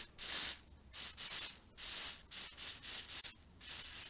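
Short hissing bursts of spray lubricant into a motorcycle cable come in an uneven series of quick puffs, fairly close, with brief silences between them.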